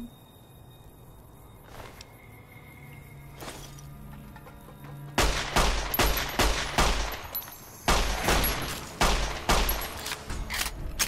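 Rapid bursts of gunfire at a bug in Fallout New Vegas, quiet at first with a couple of isolated shots, then loud clustered volleys of sharp cracks in quick succession.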